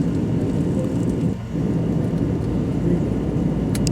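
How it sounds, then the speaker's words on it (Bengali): Continuous low roar and whir of a passenger airliner cabin at cruising altitude on a flight from Bangladesh to Saudi Arabia, steady and close, with no talk. "সো বিমান এখন অনেক উপরে"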